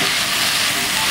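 Garlic and chili stir-frying in a pan, a loud dense sizzling hiss that holds steady throughout, close and continuous.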